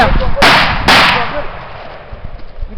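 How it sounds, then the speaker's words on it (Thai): Two sharp, loud gunshots ring out in quick succession in a forest, followed by a quieter outdoor background with faint rustling. "พร้อมที่จะยิงปืนในป่าครับ"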